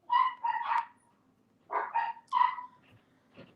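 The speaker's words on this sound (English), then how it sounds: "don't mind the puppies" Several puppies yip and bark indoors in three short clusters of high, excited yelps separated by brief pauses, close and fairly loud.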